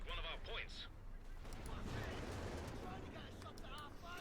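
Howitzer artillery firing in the Company of Heroes 2 video game: a rolling barrage of booms and crackling blasts rumbles on continuously, faint overall, with someone talking over it at the start and end.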